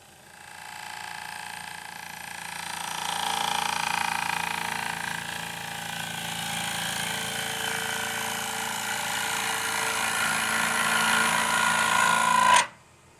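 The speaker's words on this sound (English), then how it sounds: "I'm going to go further and further in with the bowl gouge" Bowl gouge cutting deep into a wooden bowl spinning on a lathe: a continuous loud whirring scrape, near and steady, that swells slightly before stopping abruptly at the end, with no voices.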